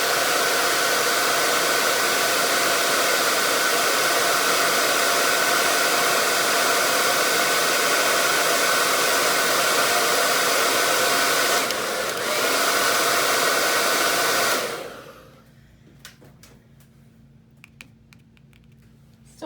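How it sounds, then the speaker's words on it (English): A loud, steady blow dryer roars close by for about fifteen seconds, then switches off, leaving near silence with a few faint clicks. "So here comes the blow dryer,"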